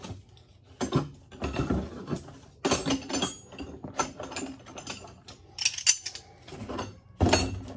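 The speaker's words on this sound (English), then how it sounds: "Bunch more double-ended wrenches." A pile of metal double-ended wrenches, many of them Plomb, is handled and shuffled, giving dense, ringing metallic clinks and rattles that come close and loud in irregular bursts.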